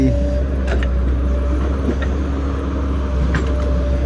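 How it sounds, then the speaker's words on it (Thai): A new XCMG 135B excavator idles with a loud, steady low diesel drone and a faint hum above it, while someone speaks over it. "ออกงานกันแล้วครับผมกับรถขุดคันใหม่ XCMG 135B"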